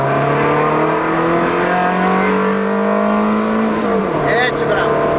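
A Ferrari 360 Modena engine revs hard under acceleration, its pitch climbing steadily for about four seconds before a gear change, then pulling again, loud and close throughout, with a man coaching the driver over it.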